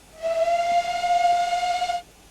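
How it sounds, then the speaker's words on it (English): The steam whistle of a GWR 9400 Pannier Tank locomotive in a train simulator gives one steady, loud blast of just under two seconds. It sounds alone, with no voices. "a B key is probably the guard's brake whistle"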